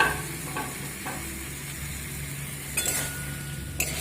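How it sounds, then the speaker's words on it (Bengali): Pre-fried chicken and potato pieces are sautéed in a pan over low to medium heat, giving a steady, moderate sizzle with a few light metallic clinks of a utensil against the pan. "দিয়ে আবারও 3 থেকে 4 মিনিট মতো আমি লো টু মিডিয়াম করে কষিয়ে নেব"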